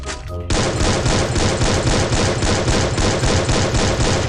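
Rapid, continuous automatic gunfire from the Free Fire video game erupts after a brief lead-in and holds loud and dense, a steady stream of shots with no pause.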